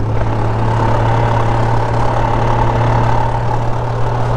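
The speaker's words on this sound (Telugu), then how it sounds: "చైన్ నాయిస్ చాలా వస్తుంది." A Kawasaki Z900 motorcycle with a chain noise fault runs at idle with a loud, steady engine drone and a low hum, recorded close, with no voices.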